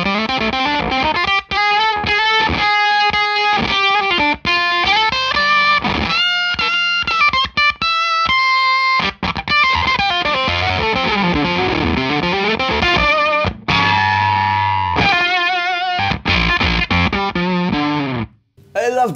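A guitar heavily processed through a Walrus Audio glitch effects pedal stutters and glitches through choppy chopped-up phrases, with abrupt cutouts and warbling pitch-shifted bursts throughout.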